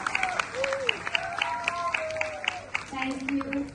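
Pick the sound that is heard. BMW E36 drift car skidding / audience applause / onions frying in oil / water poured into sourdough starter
audience applause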